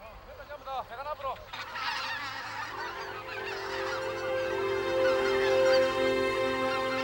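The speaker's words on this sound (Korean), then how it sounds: "이 땅에 내려앉지 못하고 떠나는 철새들" A flock of migratory geese honks continuously in the Korean countryside, opening with a few clear nearby calls before swelling into a dense, loud chorus of overlapping honks from many birds.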